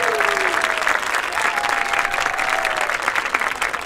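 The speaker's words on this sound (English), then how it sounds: "let's give a round of applause for our seniors" Loud crowd applause for senior members at a marching band's end-of-season event, thick continuous clapping with a few faint whistles or cheers running through it.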